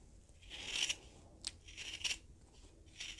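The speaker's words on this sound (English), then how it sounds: "I am going to be cutting a straight line between those 2 dots" Scissors cut fabric along a straight line, making several crisp, close snips in an uneven rhythm against a quiet background.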